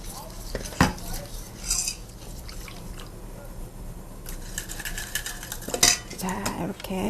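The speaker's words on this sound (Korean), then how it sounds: "자, 이렇게 섞으셔서 거품기로 이렇게 잘 풀어주시면 되겠습니다" A whisk stirs glutinous rice flour paste loosened with broth for kimchi, scraping and clinking against the bowl in an uneven rhythm with a few sharper knocks, close and moderately loud, no talking.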